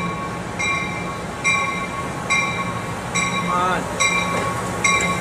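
An Amtrak or Coaster train passes through Santa Fe Depot, its engine shoving from behind, with rhythmic wheel clatter over rail joints, a brief squeal and a low rumble while people speak nearby.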